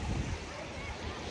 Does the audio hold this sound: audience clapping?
no